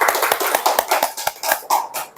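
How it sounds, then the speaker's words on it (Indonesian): Students in an Islamic studies classroom at a madrasah give a round of applause, a quick, uneven patter of many hands clapping close by, steady and lively for a couple of seconds. "Tepuk tangan dulu."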